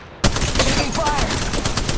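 Gunfire in Apex Legends Mobile, a sudden loud onset of dense, rapid shots and sustained firing noise that keeps going for about two seconds.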